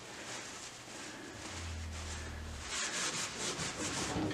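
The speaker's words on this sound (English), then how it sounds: "So here I am scrubbing down a pinball machine." A pinball machine cabinet is scrubbed with 409 multi-surface cleaner, giving a steady, close rubbing and brushing that grows slightly faster and more rhythmic toward the end, with no voices.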